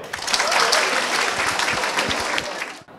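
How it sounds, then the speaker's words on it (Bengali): Students at a school quiz programme burst into loud, dense clapping that holds steady for about three seconds, then cuts off abruptly. "জোরে একটা হাততালি দেই সবাই"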